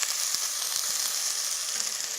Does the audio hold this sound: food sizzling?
yes